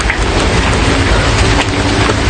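Steady, loud rain falls outdoors on Pulau Upeh, an island, making a dense, close hiss without breaks and with no voices over it.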